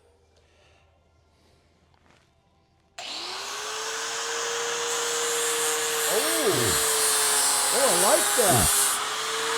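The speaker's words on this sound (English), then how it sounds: "You can see where you're grinding." An angle grinder with a see-through abrasive disc starts up after a quiet opening, then grinds with a steady high whine that dips and rises in pitch under load. A person speaks briefly over it.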